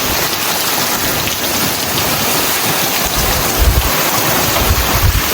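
Heavy rain pours down steadily in Canada, a dense, loud, continuous hiss of drops striking surfaces, with a few deeper low rumbles swelling near the end.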